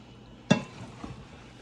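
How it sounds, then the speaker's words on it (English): Lentil chili with diced tomatoes being stirred in a pot: a single short scraping clatter of a spoon against the pot, then a soft faint scrape, with quiet kitchen background and no talking. "I'm just stirring this up."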